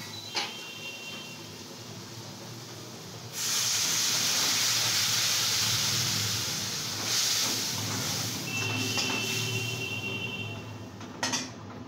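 Spices fry with paneer in a pan for a navratan korma, making a steady, close hiss that swells loudly after a few seconds as water goes in, then settles into a broad sizzle with a few faint clinks.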